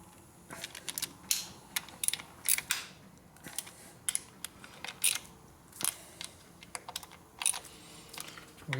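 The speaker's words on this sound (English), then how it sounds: "now we'll go torque the shit out of them now" A torque wrench ratchets while tightening bolts on the clutch primary of a 1972 Harley-Davidson XL Ironhead Sportster bobber, giving close, irregular metallic clicks in short bursts against a quiet workshop background.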